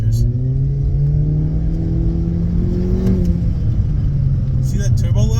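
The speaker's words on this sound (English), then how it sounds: "you guys heard the engine like go crazy, but you couldn't hear the turbo as much" A Honda Civic FK7 turbo engine fitted with a Mishimoto cold air intake revs hard, a loud steady mid-pitched drone that rises and falls, with a faint whistle-like tone near the end and talk over it.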